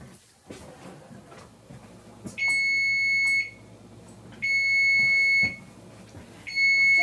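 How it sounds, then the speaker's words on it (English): Kitchen timer going off while a pumpkin pie bakes, sounding three loud, steady electronic beeping bursts about a second long each, spaced by short pauses, with faint kitchen noise between. "Okay, so there's our timer going for the official"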